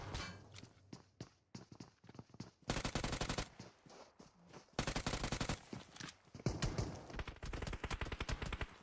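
Rapid bursts of UMP submachine gun and pistol fire from a PUBG Mobile match, loud clustered volleys separated by brief gaps and scattered footstep-like clicks, with no talk.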